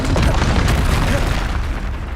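Loud, dense blasts from the Confringo spell in the video game Hogwarts Legacy, a continuous booming, crackling roar during combat that stays close and forceful throughout.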